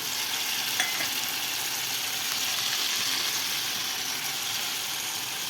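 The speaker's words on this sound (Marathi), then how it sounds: "एक पळी तेल घालायचं आहे पॅनमध्ये आणि त्याच्यामध्ये आपल्याला हे बटाटं घालायचं आहे" Potatoes frying in a ladleful of oil in a pan, a steady dense sizzle that holds loud and unbroken throughout, close by with no voices.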